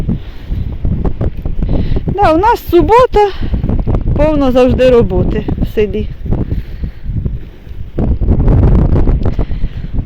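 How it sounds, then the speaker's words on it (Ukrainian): Gusty warm wind hums, whistles and rumbles loudly against the microphone while people talk nearby in Ukrainian, swelling and easing throughout. "Ох і вітер. Ну теплий, ви знаєте, теплий вітер, але гуде і свище."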